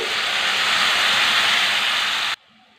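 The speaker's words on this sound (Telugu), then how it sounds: "ఇప్పుడు చింతపండు పులుసు వేసుకుందామండి." Tamarind juice hits a hot pan of spiced, chilli-coated vegetables, setting off a loud, steady, close sizzle that holds evenly before cutting off abruptly.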